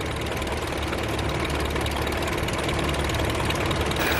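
A 52-horsepower 1952 Chamberlain Super 70DA tractor, built in Welshpool, Western Australia, runs at a steady idle close by, giving a loud, continuous knocking engine drone that does not change for the whole stretch.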